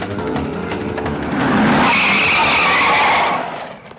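Car tires skid and squeal loudly in a film scene, a rising screech that swells over an engine roar, holds for about two seconds, then fades.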